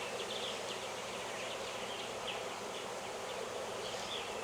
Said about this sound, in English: There's a lot of bees in here that are missing out of another one of my hives.